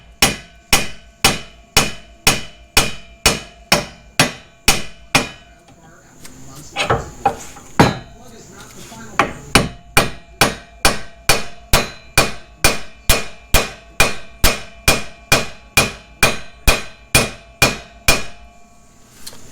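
Hammer tapping on a suspension part of a 2006 Chevy Tahoe during lowering work: a long steady run of loud, sharp metallic knocks at a regular beat, close by, with a brief cluster of irregular clanks midway.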